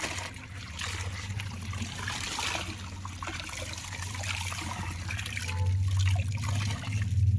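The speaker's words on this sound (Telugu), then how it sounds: "నేనైతే ఇందులో డిప్ చేస్తున్నాను" A saree is dipped and swished in a tub of starch water, giving a continuous close trickling and sloshing of liquid that grows slightly fuller toward the end.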